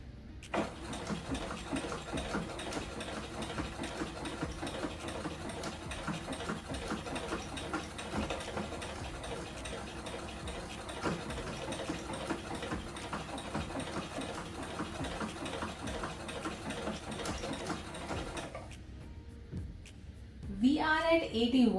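Sewing machine stitching with a zigzag presser foot, a steady rapid mechanical whirring and clicking that runs continuously for most of the clip, then stops as a voice speaks briefly near the end.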